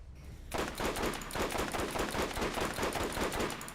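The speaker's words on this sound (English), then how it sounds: "we can tell it's explosive based on explosions and there being yellow lights on the gun itself" Rapid explosive gunfire from the video game Borderlands 1, aimed at Ajax, bursts in after a quiet half second and rattles on in dense, loud, evenly spaced rounds with blasts layered through them.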